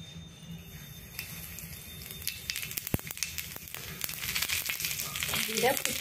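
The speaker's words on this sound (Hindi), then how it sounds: "ऑयल एठी गरम हो गला, गोटे टी स्पून एठी जीरा नौची।" Cumin seeds sizzling in hot oil, a steady crackling hiss that grows louder and denser toward the end, with a few sharp pops along the way.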